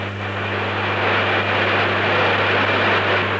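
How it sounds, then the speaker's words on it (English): Concorde airliner with four Rolls-Royce turbojet engines, a steady, loud broadband roar with a low constant hum beneath, continuous and unbroken throughout, with no talking. "The 4 Rolls-Royce turbojets are designed to cruise at this truly fantastic speed."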